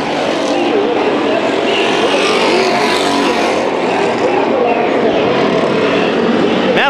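Race cars roar around the dirt oval at Bakersfield Speedway during heat races, a steady, loud engine drone that persists throughout under crowd noise and commentary.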